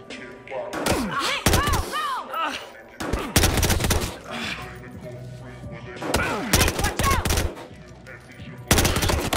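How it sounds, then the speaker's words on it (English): Gunfire in the video game Battlefield Hardline comes as repeated loud bursts of automatic fire and single heavy shots with sharp echoes, separated by short pauses, while voices speak between the volleys. "Gunfire reported."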